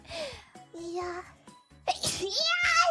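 A child-like voice gives a sharp, high sneeze near the end, following a few short vocal sounds and quiet talk.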